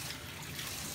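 Water poured over a dog during its first bath makes a steady, close rushing splash like a running tap filling a tub, continuous for a second with no talk.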